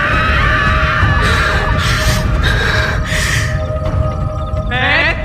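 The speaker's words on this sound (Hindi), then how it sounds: "डरावनी चीख बनकर निकली" A woman lets out drawn-out, quavering horror-style screams in several loud bursts over a rumbling eerie backdrop, ending in a rising wail.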